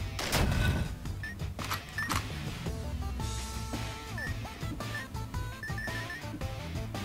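Rapid gunfire in the roguelike dungeon video game Dungreed, with quick bursts of sharp shots close in the mix over continuous game music and beeping effects.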